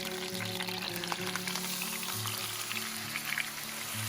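Meat browning in a frying pan for birria tacos, a steady close sizzle and crackle holding at an even level throughout, with a low background hum running underneath.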